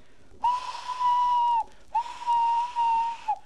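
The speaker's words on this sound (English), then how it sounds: "One day, Thomas heard an engine whistling." Two long, steady whistle blasts, each over a second, with a brief gap between them; loud and close, clearly tonal like a steam engine's whistle.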